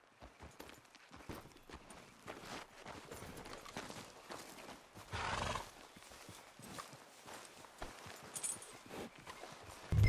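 Horse hooves clip-clop steadily at a walk in the video game Red Dead Redemption 2, with a loud whinny breaking through midway and another near the end, all over continuous ambient background.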